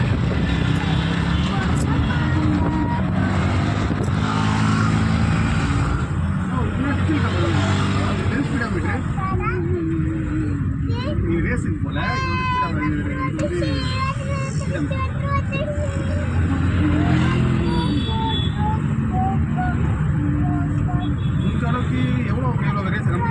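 A newly bought car drives along a road, its steady engine and road noise continuous and fairly loud throughout, with people talking inside over the rumble.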